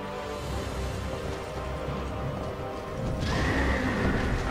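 Clip-clopping hooves and a loud whinny from a horse in Dark Souls II, the hoofbeats steady and near before the neigh swells up sharply near the end, with no talking.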